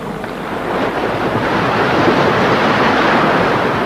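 Open-sea waves and wind around a balsa raft crossing the Atlantic from Africa to America, a constant broad washing roar that swells slightly and holds steady throughout.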